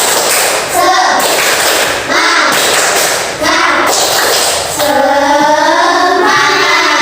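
Children in a combined third- and fourth-grade class perform a rhythmic clapping chant, loud patterned claps in bursts with young voices chanting between and over them, close and energetic.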